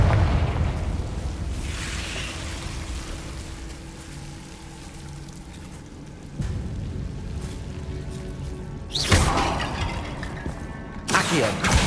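Fire spell explosions from the Hogwarts Legacy video game, with a low rumbling mechanical background punctuated by a loud bursting blast near the end and another sharp burst just after it.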